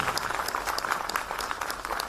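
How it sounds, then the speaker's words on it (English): An audience applauds the parents of a dancer at a Bharatanatyam arangetram, a brief burst of fairly loud, steady clapping. "I'm sure we could give a big round of applause"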